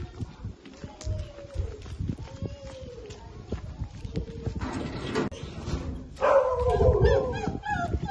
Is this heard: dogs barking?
yes